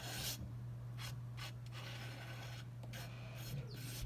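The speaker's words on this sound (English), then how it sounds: "I'm going to use my knife. There's already some brown paint on here. I'm going to scrape it along." A palette knife drags brown paint across a surface to form a tree trunk. Soft, close rasping strokes come in short repeated bursts with brief gaps between them.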